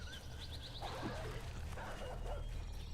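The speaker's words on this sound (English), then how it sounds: "Ah, there's the dogs." Dogs in the zombie survival game 7 Days to Die bark and yip in a quick run of short calls, followed by scattered whimpering yelps over a low rumbling game ambience.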